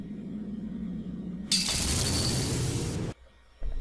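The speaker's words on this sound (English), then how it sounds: "Somebody break some glass or something?" Glass shattering in the video game Colorless Life, a sudden loud bright crash that sustains for about a second and a half and then cuts off abruptly, set against a low ambient hum.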